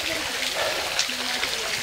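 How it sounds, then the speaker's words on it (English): Small waterfall stream in the Nagarjun forest of Nepal, a steady broadband rush of falling water running continuously and close, with faint voices mixed in. "It's small waterfall, you can say."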